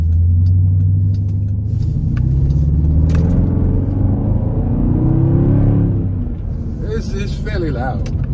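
A 2014 Dodge Durango SUV's stock exhaust growls and rumbles steadily at close range, rising briefly before settling, with someone talking over it near the end.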